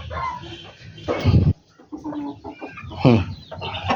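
Chickens cluck with rooster calls among farmyard fowl, several loud close bursts, one strong call near the middle and another toward the end, with no talk over them.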